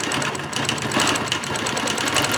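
A sewing machine runs steadily while quilting along a Petunia ruler, a continuous fast mechanical whir with rapid needle clatter, close and alone.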